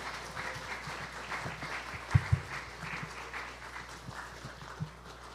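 A congregation at a Sunday service in a small country church breaks into applause to greet a guest preacher, with even clapping throughout and a few louder thumps standing out partway through.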